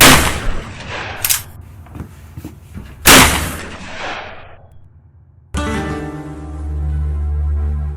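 Several dramatized gunshots ring out as sharp, loud reports with echoing tails, two especially heavy blasts standing out, followed by a sudden shift into a sustained low musical drone.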